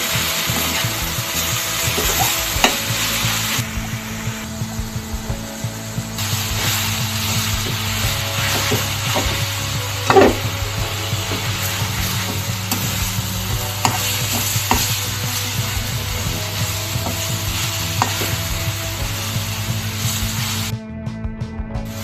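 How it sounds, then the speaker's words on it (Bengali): Leafy greens fry in a pan with onion, garlic and chili, giving a steady crackling sizzle with continual scraping and stirring from a spatula, close and moderately loud throughout, with a low hum running underneath. "এরপর ভাই শাক দিয়েছি আমি শাকটা ঝরঝরা করে ভেজে নেব"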